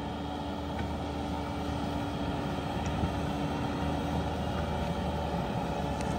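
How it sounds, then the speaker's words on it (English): A Bobcat skid steer with a rotor leveling attachment drives over soil at about 18 km/h, giving off a steady, moderately loud engine drone with an even hum. "we go 18 kilometers per hour, as fast as the bobcat goes"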